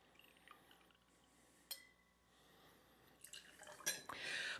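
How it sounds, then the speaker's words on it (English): Freshly squeezed lemon juice being poured into a cocktail glass for a Tom Collins, quiet drips and a short trickle of liquid with faint glass clinks, building to a brighter splash near the end. "Our first one in there is some freshly squeezed lemon juice, and we're going to put 1 ounce in there."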